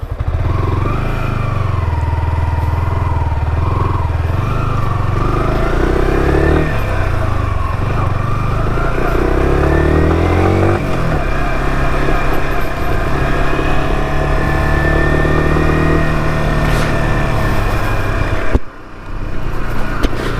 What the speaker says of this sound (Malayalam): എക്സോസ്റ്റ് നോട്ടിന് കാര്യമായിട്ട് മാറ്റങ്ങളും കാര്യങ്ങളൊന്നും വന്നിട്ടില്ല കേട്ടോ